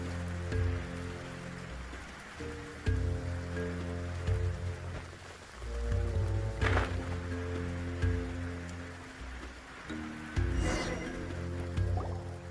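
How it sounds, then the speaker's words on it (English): Steady rain falls in the video game Genshin Impact, a constant hiss of drops with faint dripping under a looping musical score. "When did it start to rain? Oh no, I forgot to bring an umbrella."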